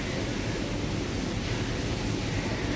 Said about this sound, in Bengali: কিন্তু আকাশ থেকে এখন বৃষ্টি হচ্ছে